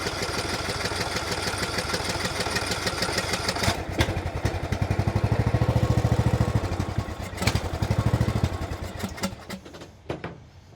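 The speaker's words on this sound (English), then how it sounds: "I don't particularly like sitting this close, like with my face just right here in a popping engine." A small lawn mower engine runs with an uneven popping beat, loud and very close. It surges a couple of times midway, then drops away and sputters near the end.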